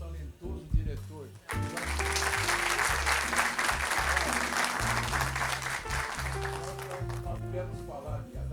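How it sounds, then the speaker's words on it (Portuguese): A seated audience applauds a director in a sustained burst of clapping lasting several seconds, with someone speaking over it at the start and through much of the clapping. "palmas para um talentoso diretor"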